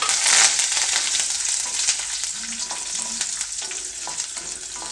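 Peanuts, dal, garlic, dried chilli and curry leaves fry in hot oil with a steady, close crackling sizzle, and light stirring scrapes sound now and then.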